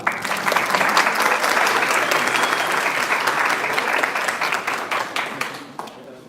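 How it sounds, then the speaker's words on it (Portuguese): An audience at a history symposium applauds the debaters, a dense, steady burst of many hands clapping close by that holds strong for several seconds, then thins and fades out. "eu peço uma salva de palmas aos nossos debatedores"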